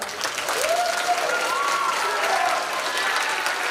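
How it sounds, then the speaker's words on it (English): A crowd applauding loudly at a school Sweetheart's assembly, a dense steady roar of clapping with cheering voices and a whistle-like call rising over it. "Everyone give a round of applause."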